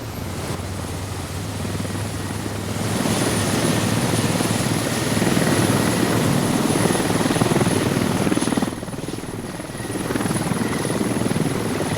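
A video-game helicopter drones continuously, a loud, close rotor whir with a thick low thump that holds steady throughout, dipping briefly near the end, with no voices.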